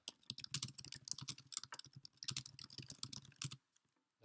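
Rapid keystrokes on a computer keyboard while typing Korean text into a Gitbook change request, in close, busy bursts for about three and a half seconds before stopping.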